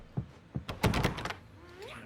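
A door in the video game Alan Wake Remastered thunks and rattles against its latch when tried, several dull knocks in quick succession, fairly close and loud, then a faint tail.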